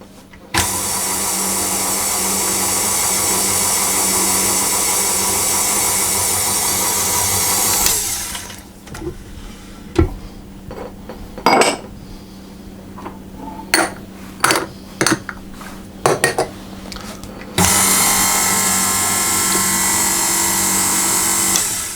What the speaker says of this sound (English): I'm going to mix that until it all comes together into a dough